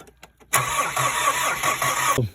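A diesel car with an airlock in the diesel line cranks and attempts to start, a loud close whirring, churning engine noise lasting about two seconds before it cuts off.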